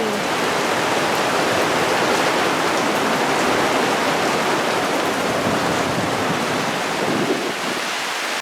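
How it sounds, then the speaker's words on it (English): Steady rain falls outdoors in a dense, even hiss, close and continuous with no other sounds. "We're getting a long-awaited rain because we don't have sprinklers or water systems out here."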